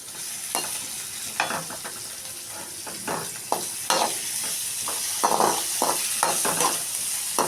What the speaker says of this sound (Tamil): போட்டு அதில் வெங்காயத்தை போட்டு வதக்கிடணும்.